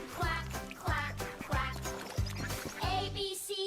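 Cartoonish duck quacks in a kids' animation, repeated in a steady rhythm of about five bursts over a bouncy musical backing, close and clear.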